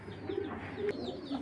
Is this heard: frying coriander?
no